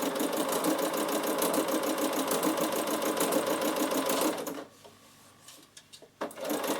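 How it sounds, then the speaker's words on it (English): A Bernina sewing machine fitted with a ruffler foot runs steadily with a fast, even mechanical chatter, then stops abruptly, followed by a few faint clicks and a brief restart. "Now watch what happens as you sew it. It's going to sew along, and every 6th stitch it's going to do a tuck."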